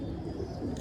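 A pigeon of an old breed coos softly in a low, rolling murmur, one continuous short call heard close up.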